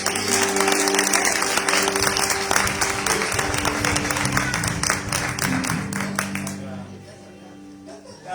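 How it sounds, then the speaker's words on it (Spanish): A congregation at a church birthday celebration claps steadily and loudly, with voices and a musical drone running beneath, fading near the end. "Le damos un aplauso a Dios."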